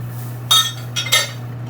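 A utensil stirring cream in a cooking pan with salmon, a few light metallic clinks and scrapes against the pan over a steady low kitchen hum.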